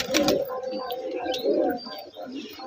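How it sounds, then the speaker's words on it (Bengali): Pigeons coo softly in a rooftop coop, a few low rolling calls close by with light chirps and faint rustling, and a voice speaks briefly nearby. "এই আপ টু ডেট আছে পায়রা।"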